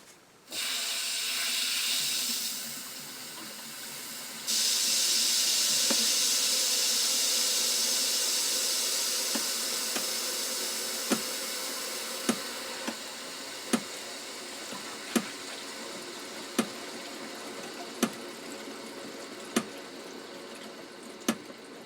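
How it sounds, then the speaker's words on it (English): A loud steady hiss of water rushing into household plumbing pipes fitted with a new thermal expansion tank, gradually easing, with a series of regular sharp ticks or knocks in the later part. "Let's slowly turn the water on, see if we get any leaks."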